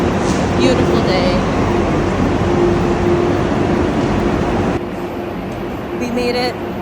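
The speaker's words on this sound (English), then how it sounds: "Back on the train again, heading home." Steady rumble and low hum inside a moving train in Spain, with faint background voices and clatter drifting over the continuous ride noise.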